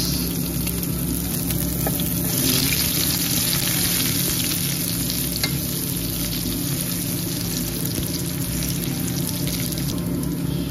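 Garlic frying in rendered pork fat, a steady, close, loud sizzle with a dense crackle that runs unbroken and evenly for the whole stretch, with no voices.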